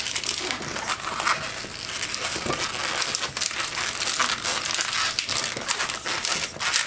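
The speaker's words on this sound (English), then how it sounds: "Secure that by making the 2 pinch twists behind it to hold it." A latex balloon is twisted into a shotgun barrel, the rubber squeaking, rubbing and crinkling loudly and continuously right up close, with no talking.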